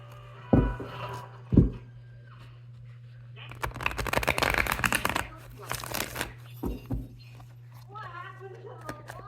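Tarot cards shuffled by hand in a kitchen setting, a burst of riffling and rustling in the middle framed by taps, a steady background hum and a person talking near the end.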